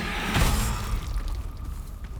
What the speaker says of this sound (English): Now you saw those explosions go off